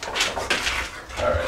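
A pit bull being groomed barks and whimpers, a couple of short yips and whines close by over a restless background, with a person's voice faintly mixed in.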